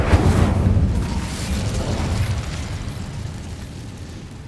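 Incendio fire spell bursting in Hogwarts Legacy, a loud explosive whoosh at the start that rumbles and fades over several seconds.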